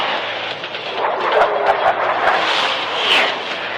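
F-16 fighter jet engines roaring in pursuit, a steady loud, broad rushing roar that swells slightly and stays close throughout.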